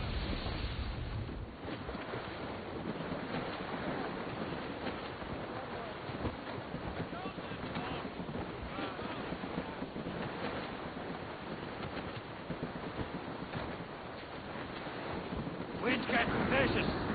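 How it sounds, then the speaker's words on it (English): Strong wind at sea aboard a sailing ship in the video game Assassin's Creed Rogue, a steady, heavy roar of gusts and rushing water filling the whole stretch, with crew voices beneath it. "Wind's getting vicious."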